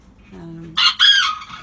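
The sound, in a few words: chickens clucking and rooster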